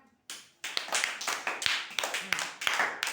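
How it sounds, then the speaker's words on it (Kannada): Children in a classroom clap in unison, a rhythmic series of sharp, evenly spaced hand claps close by, about nine beats in quick succession after a brief quiet start. "ಕ್ಲ್ಯಾಪ್."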